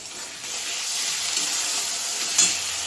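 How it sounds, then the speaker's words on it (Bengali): Onion frying in a pan with ginger, cumin, coriander and garlic paste gives a steady, close hiss of sizzling that runs throughout, with a brief louder spatter near the end. "পেঁয়াজটা ভাজা ভাজা মতন হয়ে গেছে। এতে আছে আদা জিরে ধনে আর রসুন বাটা"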